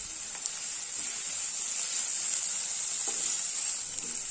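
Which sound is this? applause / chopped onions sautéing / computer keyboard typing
chopped onions sautéing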